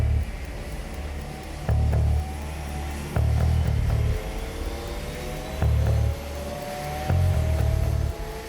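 Helicopter engines cranking up as combined SAS and Navy SEAL assault units board, a steady low turbine drone with rising whine tones and repeated heavy low thumps pulsing every second or so, no voices.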